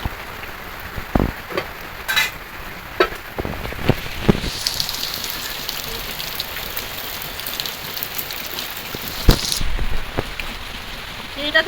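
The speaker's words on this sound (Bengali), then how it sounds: "ভীষণ জোরে বৃষ্টি হচ্ছে একদম" Heavy rain pouring down outside a home kitchen, a dense steady hiss with scattered louder knocks and clatters from cooking, alone without talk.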